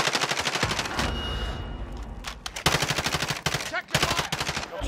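Automatic weapons rattle in the Call of Duty Warzone video game, with rapid close bursts of gunfire broken by short pauses and renewed volleys, loud and dense throughout.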